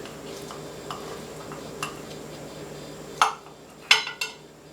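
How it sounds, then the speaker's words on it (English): A piece being cut out of a large baked breakfast casserole, with faint scraping in a dish followed by a few sharp metallic clinks of a utensil against the pan, close and otherwise quiet. "And all you do on the big casserole is cut a piece out."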